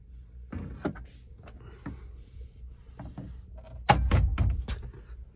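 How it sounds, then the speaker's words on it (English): A plastic trim tool pries back an interior panel on a Jeep Liberty, giving scattered sharp clicks, snaps and creaks, with the loudest cluster of pops near the end. "taking our trim tool, we just quite simply put it up in the top of here, pry back on both sides"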